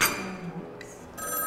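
A mobile phone rings indoors with bright, tonal electronic chimes, one burst at the start and another after a short pause, fairly quiet in the room.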